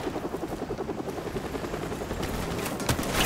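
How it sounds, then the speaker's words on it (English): A military helicopter in the Call of Duty 4 Modern Warfare Remastered campaign, its rotor thumping steadily and loudly amid bursts of gunfire and battle noise. "I hear the helicopter."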